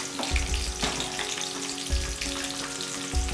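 Three green chillies frying in oil in a pan: a steady close crackling sizzle, with faint low knocks of a spoon recurring every second or so, and no talking.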